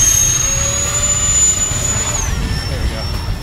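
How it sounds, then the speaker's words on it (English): A large FMS A-10 Warthog RC model jet with twin electric ducted fans flies slowly overhead, giving a steady whining jet roar whose high tone drifts down in pitch as it passes. "you can make this jet happily plod along at a snail's pace while it flies almost on thrust alone"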